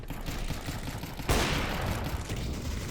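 Gunfire in the video game CS:GO: a dense, loud burst of shots breaks in about halfway through over a steady noisy background, then a continuous rattling volley carries on to the end.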